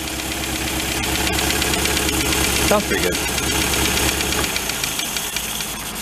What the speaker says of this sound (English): Let's tie the throttles together and we'll rev it up and we'll see how they play well